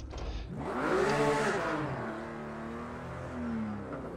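A race car on a circuit in Project Cars 2, its engine revving up and sweeping through rising and falling pitches as it accelerates and shifts, loud and close with no talk.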